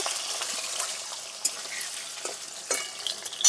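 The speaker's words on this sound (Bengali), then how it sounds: "আলুগুলোকে চেড়ে একটু হালকা ভেজে নেব" Cut potato pieces fry lightly in hot oil for a moong dal curry, giving a bright, close, continuous sizzle with intermittent spitting pops and stirring scrapes.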